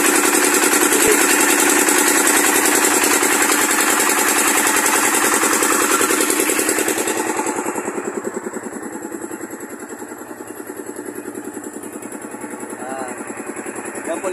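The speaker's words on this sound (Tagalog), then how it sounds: "Yung water pump, makina," Engine of a water pump running to irrigate a rice field, a loud steady mechanical chugging throughout that softens slightly partway through and keeps a constant rhythm, with no voices over it.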